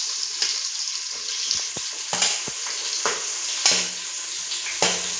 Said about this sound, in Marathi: आता कांदा फ्राय करून घेऊ